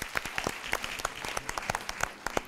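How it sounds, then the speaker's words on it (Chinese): Audience at a Tsing Hua University College of Technology Management lecture hall applauds to welcome the dean on stage: dense, steady crowd clapping with many overlapping sharp claps, sustained throughout with no talking. "让我们掌声欢迎清华大学科技管理学院林哲群院长上台"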